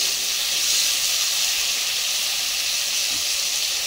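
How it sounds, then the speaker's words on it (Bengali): Pointed gourd (potol) frying in hot oil, a steady broadband sizzle and hiss that holds evenly throughout with no pauses or voices. "তেলটা গরম হলে তখনই আমি পটলটা দেব। তো এখন আমি পটলটা তুলে দিয়েছি"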